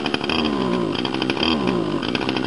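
A small engine is revved while warming up, a buzzy, raspy chainsaw-like drone with rapid pulsing revs, loud and close, with no talk.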